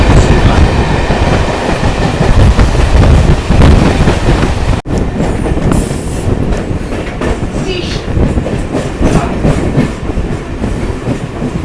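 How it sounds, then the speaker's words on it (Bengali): A Sealdah–Bangaon electric local train runs just after leaving Ashoknagar Road station, with a loud, continuous onboard rumble, rattling carriages and rhythmic wheel clatter throughout, plus one brief dropout midway. "আমাদের ট্রেনটা অশোকনগর রোড স্টেশন থেকে ছেড়ে দিল"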